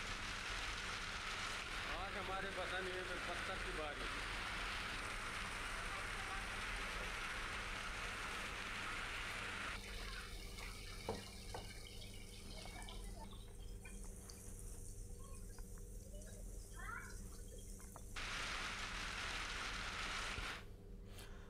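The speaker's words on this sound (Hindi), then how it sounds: "भारी ओलावृष्टि हुई है बारिश भी हुई है" Heavy rain falls after a strong hailstorm, making a dense, steady hiss of drops that continues unbroken throughout, with faint voices now and then beneath it.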